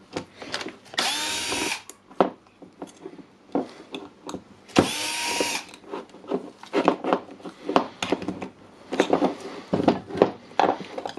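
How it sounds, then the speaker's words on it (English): The four screws of a Makita jigsaw are undone during a teardown, with two short bursts of an electric screwdriver whirring close by, between scattered clicks, scrapes and handling noises. "now we have the 4 screws here. We need to unscrew them."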